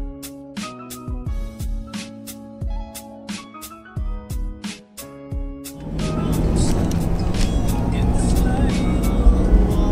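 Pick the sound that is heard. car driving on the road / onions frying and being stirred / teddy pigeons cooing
car driving on the road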